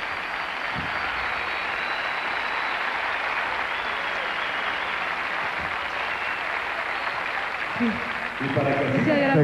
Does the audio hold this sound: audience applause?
yes